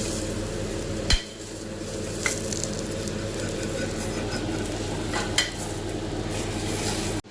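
Curry with garam masala sautéing in a pan for an egg drop curry, a steady sizzling hiss throughout, broken by a few sharp clicks of a utensil against the pan.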